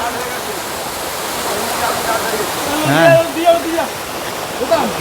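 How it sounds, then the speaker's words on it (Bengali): A waterfall at the Panchalingeswar temple in the Nilgiri hills of Odisha rushes steadily in a broad, even wash, with a person briefly speaking over it toward the end. "ঝর্ণাটা নামছে এখান দিয়ে এত সুন্দর লাগছে"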